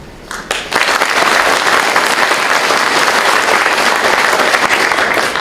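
Loud, dense applause from a symposium audience welcoming an invited guest, starting abruptly after a brief quiet moment and holding as a full, steady roar of clapping to the end.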